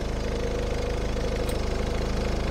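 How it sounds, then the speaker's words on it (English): A car engine idles steadily with its radiator fan switched to high speed, giving a continuous close, even drone with a faint rhythmic rattle throughout. "I've got the engine running and the high speed fan."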